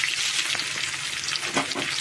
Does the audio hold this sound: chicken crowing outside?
no